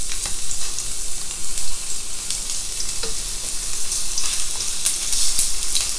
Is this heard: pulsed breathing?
no